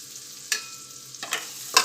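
Large slices of a medium onion sauté in a pan, a quiet steady sizzle broken by three brief scraping stirs of a spoon, close and alone without talk.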